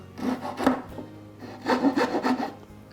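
A hand saw cuts a small notch into the edge of a wooden box, two bursts of rasping back-and-forth strokes separated by a short pause, close and clear.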